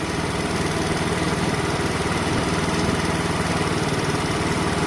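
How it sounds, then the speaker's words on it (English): A Sinnis Harrier 125 motorcycle engine idles with a steady, throbbing rumble, close and loud, its revs shifting slightly over a few seconds during a carburetor adjustment. "So I'm going to go half a turn out. And we'll listen to the revs."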